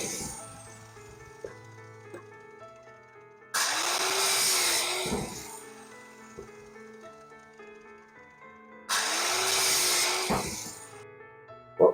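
Hand saw cutting a piece of wood braced against a clamp: two loud bursts of rough sawing, each a couple of seconds long, separated by quieter stretches over a steady tonal background.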